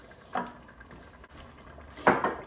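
Bottles holding tomato puree and water being shaken in a kitchen, two short sloshing, rattling bursts separated by a pause, close and moderately loud with no talking.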